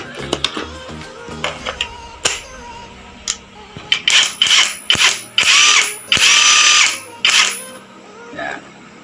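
A 36V cordless brushless impact wrench is test-run with a fresh battery, firing a series of short buzzing bursts that lengthen into sustained loud hammering runs, then stop, heard close up with no talking.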